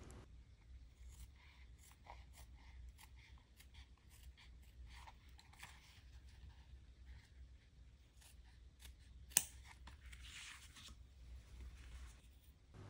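Soft, repeated snipping of scissors cutting through thin pigskin leather, quiet and close, in an irregular rhythm with small pauses between cuts.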